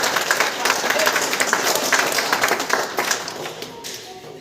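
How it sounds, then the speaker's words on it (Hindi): Applause from an audience at a village school's parents' meeting: a dense, steady wash of clapping that runs for several seconds, close and fairly loud, then thins slightly toward the end. "इस बच्ची के लिए एक बार जोरदार तालियां"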